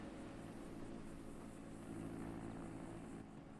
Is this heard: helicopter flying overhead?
yes